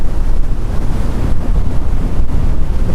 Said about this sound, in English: steady, strong wind like this is